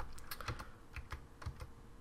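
Fingers typing code on a computer keyboard, a quick irregular run of nearby key clicks, fairly quiet, with no talking.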